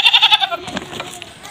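Goat bleating at a livestock market, a wavering cry repeated several times at the start, close and fairly loud, then fading into quieter market background noise.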